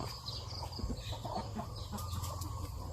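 Chickens cluck intermittently at a moderate distance over a steady outdoor background hum, with scattered short calls and no talking.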